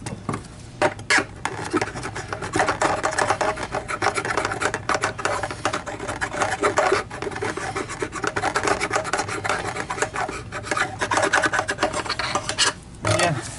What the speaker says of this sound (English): And that I will scrape out with the screwdriver.